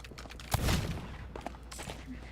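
Single gunshot fired in the pirate video game Sea of Thieves, a sharp burst with a brief booming tail amid ambient game sound, followed by faint smaller clicks.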